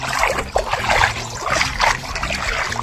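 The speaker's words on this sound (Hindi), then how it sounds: "ये नदी का पानी जो जहाँ से बह रहा है ना" River water trickles and splashes steadily around someone wading through the middle of a stream toward a waterfall, a continuous close, moderately loud flow with occasional sloshing bursts from footsteps.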